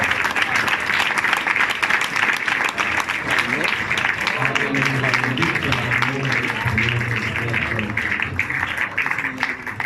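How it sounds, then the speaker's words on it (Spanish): Sustained applause from a church congregation fills the room, with a sung or spoken voice rising beneath the clapping partway through. "Dele fuerte ese aplauso al Señor en esta mañana."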